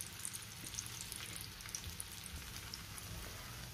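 Cucumber thalipeeth flatbread frying in oil on a pan over low-to-medium flame, a faint steady crackling sizzle with scattered small pops throughout.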